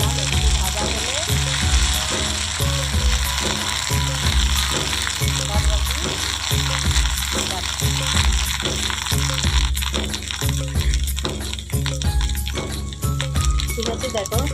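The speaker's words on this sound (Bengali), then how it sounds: "দেখো রসুন বাটা আর আদা বাটাটা দিয়ে দিলাম, একটু ভাজা হলে" Garlic and ginger paste fries in a pan with a steady, close sizzle, punctuated by a regular rhythmic stirring or scraping, while a voice talks over it.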